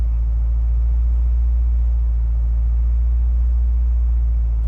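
A 1995 Acura Integra GSR being driven, its engine holding a steady low rumble with the clutch being worked, no speech over it.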